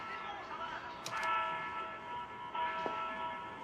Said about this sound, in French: Les cloches d'une église.